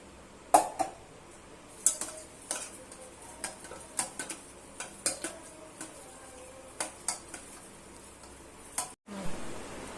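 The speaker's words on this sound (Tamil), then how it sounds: "இப்போ பாலை நம்ம ஜெல்லி மிக்ஸ்குள்ள போட்டு நல்லா மிக்ஸ் பண்ண போகிறோம்." A spoon stirs hot boiled milk into jelly mix in a bowl, making light, irregular clinks and taps against the sides over a quiet background, with no voices.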